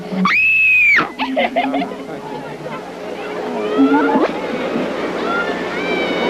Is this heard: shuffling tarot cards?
no